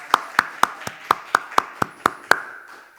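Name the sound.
congregation clapping in church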